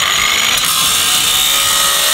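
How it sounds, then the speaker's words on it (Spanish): An angle grinder cuts into a metal safe with a steady, harsh, high-pitched grinding hiss. The sound holds without a break, loud and close, with no voices. "Vamos a intentar hacer el último corte con la radial"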